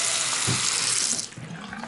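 Water runs from the tap into a bathroom sink and drains, a close, steady hiss that thins out toward the end.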